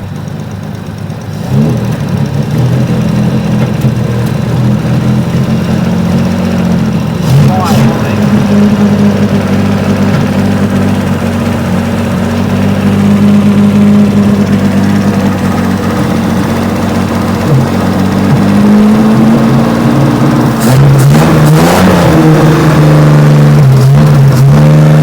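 An old, rusty Jaguar that sat unused for eight years runs with a slightly tappy engine, idling steadily and then revving loudly near the end, with people talking over it throughout.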